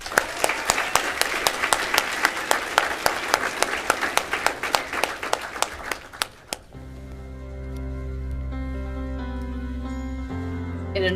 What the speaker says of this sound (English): Let's give the biggest blue and gold round of applause we can stand for all these supporters of John Deere